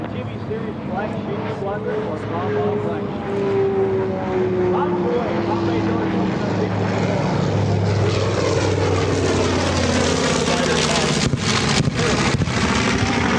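Warbird bombers fly past at an airshow, a loud sustained propeller-engine drone with wind buffeting that swells and shifts pitch as the aircraft pass, while an announcer talks over it.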